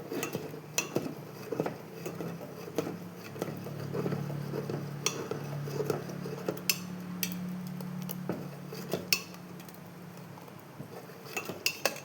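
A pot of jackfruit seed payasam being stirred after milk is poured in, with soft scraping and light metallic clinks of a spoon against the pot, close and steady with irregular taps throughout.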